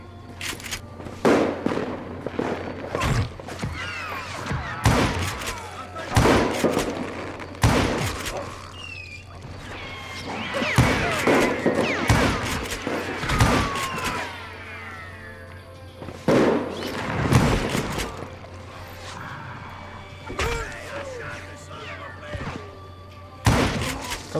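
Repeated gunshots in the Western shooter Call of Juarez: Gunslinger, sharp loud cracks in irregular clusters with ricochet-like whines and shouting in between.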